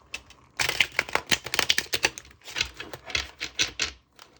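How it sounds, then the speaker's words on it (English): A deck of tarot cards is shuffled up close, giving a quick rapid riffle of papery clicks and flutters that comes in two bursts with a short pause between. "I'm gonna shuffle them once more on camera"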